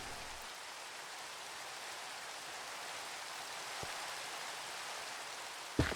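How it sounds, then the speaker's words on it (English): Rain falls in a blocky Minecraft-style video game world, a soft, even hiss that runs throughout with one faint tap midway and a brief louder knock near the end. "And it's starting to rain."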